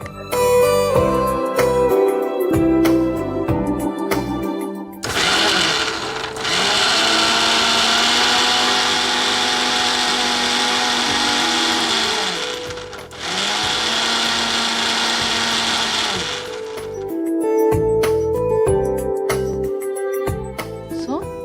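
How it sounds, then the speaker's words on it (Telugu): A kitchen mixer grinder blends mango lassi flavoured with cardamom powder in two loud, steady bursts of motor whine, separated by a short pause, with brief kitchen clatter before and after. "సో మనం ఇప్పుడు దీన్ని మిక్సీ పట్టేసుకుందాం"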